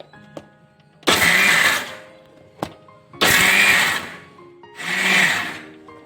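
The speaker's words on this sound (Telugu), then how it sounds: "ఇప్పుడు ఇవన్నీ మిక్సీలో లైట్గా బ్లెండ్ చేసుకోవాలి ముందుగా వేయించిన జీడిపప్పుని లైట్గా బ్లెండ్ చేసుకోవాలి బరగ్గా" Mixer grinder coarsely blending roasted cashews in three loud whirring pulses of about a second each, separated by short pauses and a sharp click or two, with no talking.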